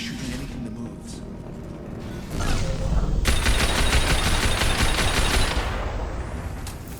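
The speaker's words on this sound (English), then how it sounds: "Blue Suns and Vorcha shooting anything that moves." Blue Suns mercenaries and Vorcha trade heavy gunfire in the sci-fi shooter Mass Effect 2, with rapid automatic bursts and a dense, continuous volley that swells midway, loud and close with a voice speaking under it.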